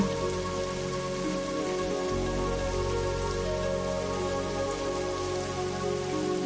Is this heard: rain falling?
yes